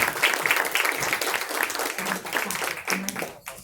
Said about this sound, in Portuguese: Uma salva de palmas para a Rafaela.